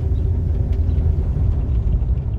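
A Jeep Cherokee XJ with a 4.0 engine rumbles steadily on the road, a loud, low, continuous drone heard from inside the vehicle.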